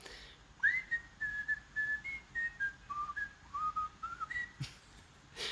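A melodic whistled tune, carefree and wandering, with a short pause near the end followed by a brief final note.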